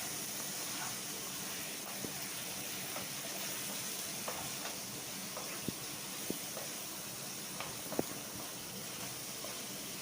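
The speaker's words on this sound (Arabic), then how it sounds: "نخلي البصله تقلى مزيان" Onion frying with chicken pieces in a pan, a steady soft sizzle and hiss with occasional small pops and clicks, close and fairly quiet throughout.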